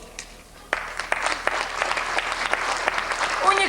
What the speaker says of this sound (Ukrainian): оплески гучніші цій людині